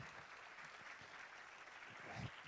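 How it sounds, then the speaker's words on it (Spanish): Audience at a Spanish-language conference talk on education, technopolitics and hacktivism applauds, a steady faint-to-moderate wash of clapping from a room full of people, continuous across the moment without pauses. "Bueno, otro aplauso por favor a Jorge"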